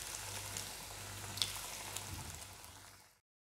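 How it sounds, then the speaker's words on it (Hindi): Chicken pakora pieces frying in hot oil in a kadai, a soft continuous sizzle and crackle with a faint pop, fading out at the end. "हमने सभी चिकन को छोड़ दिया है ऑयल में। हम इसको गोल्डन ब्राउन होने तक हम इसको फ्राई कर लेंगे।"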